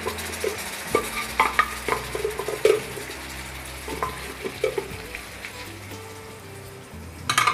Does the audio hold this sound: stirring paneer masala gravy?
yes